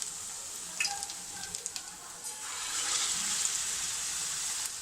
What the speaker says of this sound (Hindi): ज़बरदस्त फ्राई हो जाएंगे, ज़बरदस्त बन जाएंगे, बहुत मज़े के कबाब बनेंगे